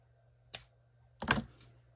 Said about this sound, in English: So now I'm just going to trim the extra off the bottom.